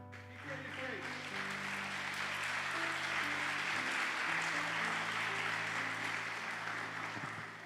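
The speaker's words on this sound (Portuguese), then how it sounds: "Eles estão aplaudindo a mim que te segurei ele." A church congregation applauds at a service, a broad wash of clapping that swells and holds steady over sustained background tones, with voices mixed in.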